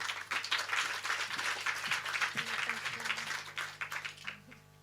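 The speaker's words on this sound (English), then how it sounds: "a warm round of applause for Stephanie Reicheld" Audience applause for a scientist-artist speaker at a talk event, dense steady clapping from a seated crowd that runs for several seconds, then tapers toward the end as background music tones and a murmur of voices continue.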